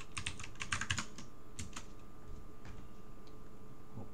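Quick bursts of clicking keystrokes on a computer keyboard, clustered at first and then thinning into sparser taps, close by and without talk.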